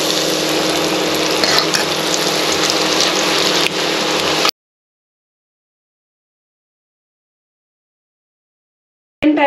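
French fries fry in hot oil with a loud, steady bubbling sizzle that cuts off abruptly into silence, then briefly returns at the end.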